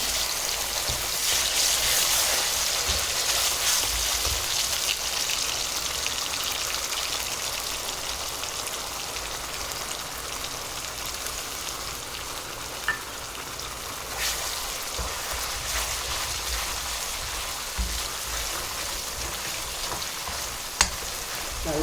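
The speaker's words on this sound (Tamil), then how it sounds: "நம்ம இப்போ அதில் இஞ்சி பூண்டு பேஸ்ட் அரைச்சி வச்சுருக்கிறத அதை சேர்த்து நல்லா வதக்கி விட்டுக்கலாம்" Ginger garlic paste sautés in hot oil in a kadai for a coriander crab masala, giving a steady, rain-like frying hiss that runs unbroken for a long stretch, with a few sharp taps of a spoon and no talking.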